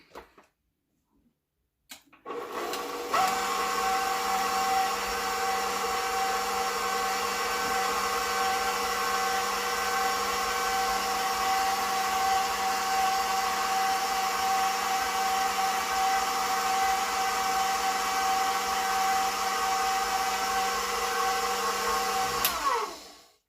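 A KitchenAid electric apple corer and slicer starts up and runs steadily for about twenty seconds with a loud, even motor whine, then cuts off abruptly.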